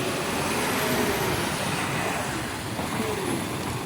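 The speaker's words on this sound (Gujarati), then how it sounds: "આ ટ્રેક્ટરના રોડમાં ડમ્પર હાલે" A dumper truck rumbles along a rough tractor road, its broadband engine and road noise steady and loud throughout.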